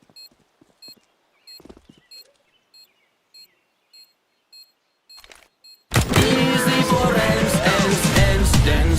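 A bomb being planted in CS:GO gives evenly spaced electronic beeps with small clicks over near silence, then a sudden loud, dense burst of game sound fills the last few seconds.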